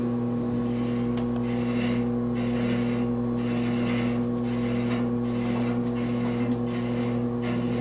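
Cutting a screw thread in ivory on a lathe: a continuous loud rasping, rubbing scrape over a steady motor hum, swelling and easing in a repeated rhythm of strokes, close up and without talk.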